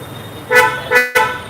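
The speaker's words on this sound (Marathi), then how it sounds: "अशा प्रकारे ड्युअल हॉर्न सेटअप" A Kia Syros car's dual horn gives three short, loud toots close by, the second and third blasts coming in quick succession.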